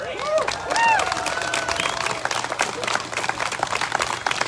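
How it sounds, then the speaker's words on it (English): Applause and cheering from a crowd at an outdoor freedom rally in Okotoks, with scattered whoops and shouts over dense clapping that holds steady throughout. "Thanks for the applause"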